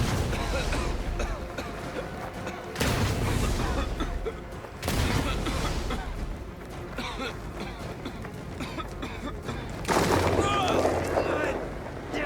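Gunfire erupts in the Mafia The Old Country video game, with several loud, abrupt volleys breaking out at uneven intervals over a constant rumbling background while voices shout.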